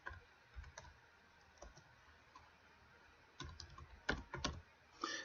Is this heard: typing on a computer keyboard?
yes